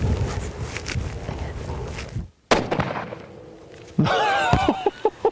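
A single rifle shot fired at an old warthog on a plains-game hunt in Namibia, a sharp loud crack breaking through steady outdoor noise, followed by a quieter stretch and then excited voices.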